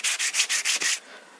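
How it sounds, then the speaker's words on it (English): Long sanding block rubbed over a plastic rifle part in six quick, even back-and-forth strokes, close and crisp, each a hissing scrape, ending in quiet after about a second. "And you can sand the bottom. You can sand the front piece here."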